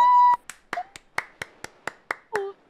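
A tone is followed by a string of sharp hand claps, about eight in a steady, evenly spaced rhythm, close and crisp.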